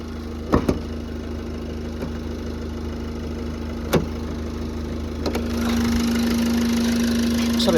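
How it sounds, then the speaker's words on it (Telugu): A 2015 Ford Figo Aspire Titanium diesel engine idling with the bonnet open, a steady close hum with a few sharp clacks early on, then a louder, rougher idle toward the end. "నేనైతే బానట్ ఓపెన్ చేసిన, ఇంజన్ని స్టార్ట్ చేసిన, మీరైతే ఇంజన్ సౌండ్ వినొచ్చు."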